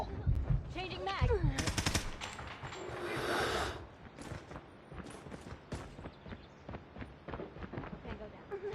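Weapons in COD Mobile fire in rapid automatic bursts and scattered shots, mixed with other in-game effects and voices talking over the action.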